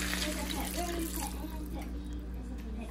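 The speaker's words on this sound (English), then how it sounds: "Now we're ready to add waters." Two cups of water pour into a pot of potatoes for Japanese curry, a steady splashing trickle that fades toward the end, with a low electrical hum underneath.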